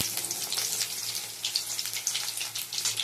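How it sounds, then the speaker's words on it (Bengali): Bitter gourd slices coated in gram flour batter frying in hot oil in a wok, a bright, busy crackle with rapid popping bursts that rise and fall, close up and uninterrupted by any voice. "করলাগুলো কড়াতে দিয়ে দিয়েছি, এইভাবে এবার ভেজে নেব"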